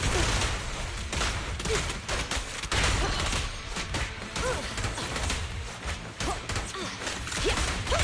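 Gunfire in the video game Zenless Zone Zero, from a Suppressor K-22, as a dense, loud, continuous barrage of shots and impacts mixed with game sound effects.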